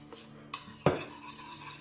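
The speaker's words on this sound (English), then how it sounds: "I just keep on stirring it until I have a little bit thicker consistency" A utensil scraping and clinking against a bowl while melted whipped candle wax is stirred, two sharp knocks in a short quiet clip.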